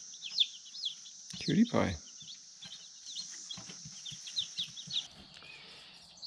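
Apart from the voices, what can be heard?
chickens clucking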